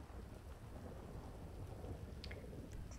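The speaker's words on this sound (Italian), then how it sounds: "Il temporale mi sta mettendo ansia." Steady heavy rain with a low thunder rumble during a thunderstorm in the GTA V FiveM video game, continuous and dense with no speech.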